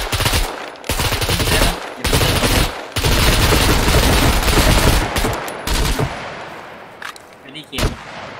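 Sustained automatic gunfire in the survival game SCUM, loud bursts of rapid shots with brief pauses between volleys, close and dense, tapering off toward the end with scattered shots.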